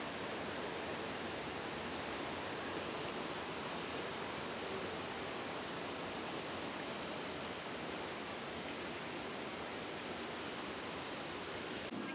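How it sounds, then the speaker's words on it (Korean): Johnston Canyon Lower Falls in Banff roars with a steady, dense rush of falling water. The sound is a constant, close, unbroken wash with no voices or other sounds. "폭포는 작은데 수량이 많아서 엄청난 소리를 내고 있습니다."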